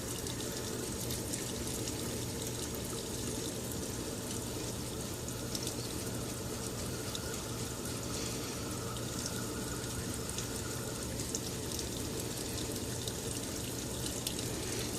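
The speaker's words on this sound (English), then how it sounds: "Let's begin lathering." A shaving brush works up a lather on a Razorock glycerin shaving soap, a steady, wet swishing and churning that runs close and fairly loud for the whole stretch without pause.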